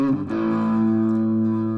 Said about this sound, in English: this is the sound of just the effects power amplifier on the amp